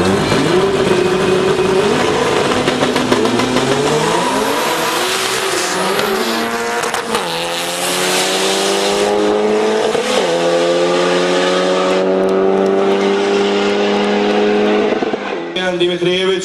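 An Opel Corsa 2.0 Turbo with 413 horsepower races other cars, engines revving loud and close with rising and falling pitch as gears change, tires squealing, and a commentator talking over the roar.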